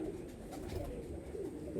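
Pigeons cooing softly at close range, low murmuring coos blending into a faint steady background hum, with no talk over them.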